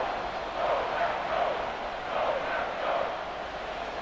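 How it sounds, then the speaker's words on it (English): A stadium crowd in Madden NFL 24 cheers on the home defense, a roar that rises and falls in swells and sits under a commentator's voice. "this crowd urging on their defense. They're up and making noise."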